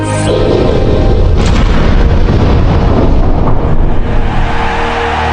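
A small iron piece sets off a huge blast, heard as a loud, continuous booming roar that fills the whole stretch without letting up.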